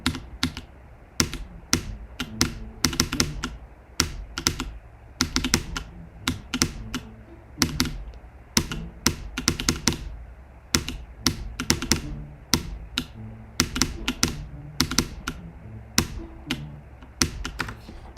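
Computer keyboard keys clack during a rhythm game, close and crisp, in irregular bursts of quick taps and single presses with short pauses, continuing without talk.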